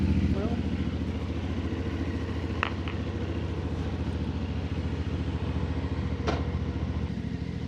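A 450 motorcycle engine idles steadily in the sun after starting, a continuous low mechanical rumble with light clatter and a couple of brief sharper noises over the top.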